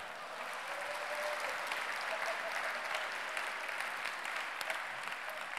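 Audience applause at a Front-Trends 2017 conference talk on microservices, a steady dense wash of clapping from a sizeable crowd filling the room, sustained evenly throughout without any voices.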